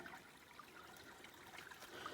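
A tiny trickle of flowing water from a small source on a hiking trail, faint and steady with soft dribbling and splashes, heard close by.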